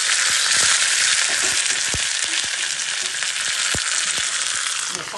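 Curry leaves and mustard seeds sizzle in hot coconut oil while tempering for sambar: a loud, continuous hiss of frying peppered with sharp crackles and pops from the seeds, close up.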